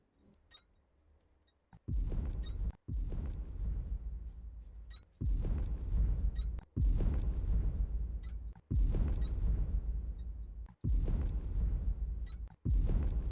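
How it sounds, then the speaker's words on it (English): Explosions in the factory-building game Techtonica, a string of about seven deep booming blasts spaced a second or two apart, each loud and rumbling, with small electronic chirps in between. "Just one more little explosion here."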